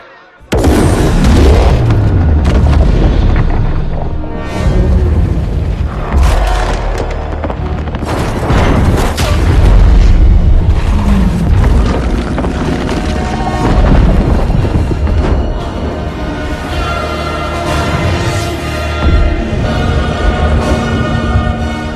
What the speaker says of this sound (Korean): 유적지에 설치된 지뢰들이 폭발하며